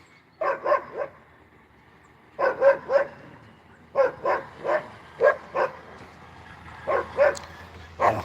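Several dogs bark in repeated bursts of three to five barks with short pauses between them, fairly close and loud, on a rural property during an olive harvest morning.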